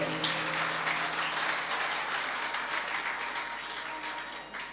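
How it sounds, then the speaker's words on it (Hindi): A congregation claps during a Jain monk's sermon in Ganga Nagar, Meerut, a dense, even patter of many hands at moderate distance that fades slightly toward the end. "सही कह रहा हूं तो तालियां बजा दिया करो"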